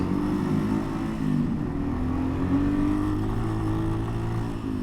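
A Yamaha XT225 motorcycle rides over hard-packed dirt with a steady, loud engine drone and a slight pitch rise partway through, continuous for the whole stretch with no talking.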